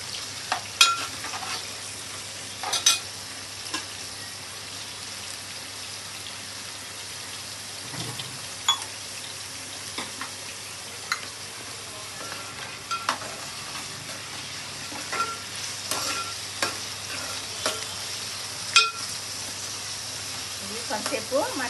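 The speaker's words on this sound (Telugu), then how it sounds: "కొంతసేపు మనం రొయ్యల్ని మగ్గనిద్దాం." Raw prawns with tomatoes fry in a pan for chicken and prawn fried rice, giving a steady low sizzle with scattered clinks and scrapes of a stirring spoon throughout, fairly quiet, with no talk.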